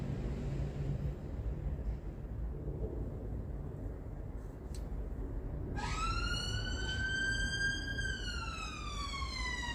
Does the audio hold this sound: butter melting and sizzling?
no